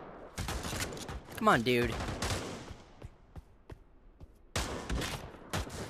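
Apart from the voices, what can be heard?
gunfire in the video game Pavlov VR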